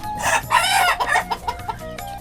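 Several native desi chickens cluck and squawk close by while feeding, with a rooster crowing among them, busy and continuous.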